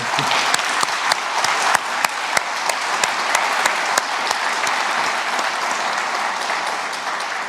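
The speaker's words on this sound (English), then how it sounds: "Please, let's give a big round of applause" Audience applause closing a hospitality real estate panel, a loud, full round of clapping from a seated crowd, steady throughout with a few sharper individual claps standing out near the front.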